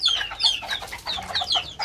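Serama chickens, a rooster and chicks, cluck and peep in quick, rapid chirps close by, with no voices present.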